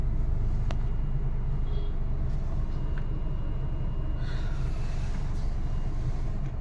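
Steady rumble of idling and slowly moving vehicles waiting at a GAIL CNG petrol pump near an airport, continuous low engine drone with faint traffic noise, no speech.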